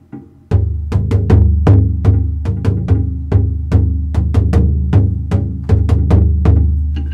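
Taiko drums beating out the Matsuri rhythm at a slower demonstration pace; deep, booming strikes land in a steady repeating pattern with sharp accents, loud and close, with no talking.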